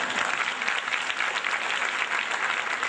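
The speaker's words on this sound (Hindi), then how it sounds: "हमारे कहने से आपने ताली बजाई" An audience applauds at a religious discourse, a dense, steady patter of many hands clapping together without pause, fairly loud and even throughout.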